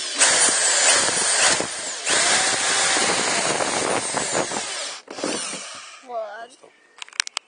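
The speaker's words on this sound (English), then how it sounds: "Okay, that's my 4 holes drilled out." Power drill boring holes into the bumper of a Chrysler Grand Voyager, a loud continuous whine for about five seconds with brief pauses, then stopping, followed by quieter handling clatter and a few sharp clicks near the end.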